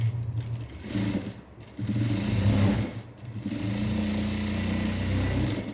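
Sewing machine stitching a cross-cut blouse, a close steady motor whir with rhythmic needle clatter in long runs, briefly pausing and restarting.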